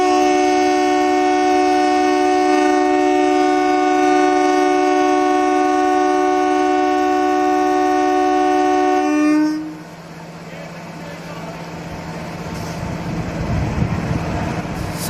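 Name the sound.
Indian Railways WAM4P electric locomotive horn honking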